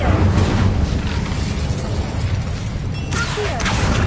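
Incendio fire spell cast in Hogwarts Legacy: a sustained, loud roaring whoosh of flame with a crackling texture, flaring sharply again near the end.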